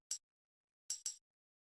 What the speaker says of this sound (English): Next thing that we have here is this little tambourine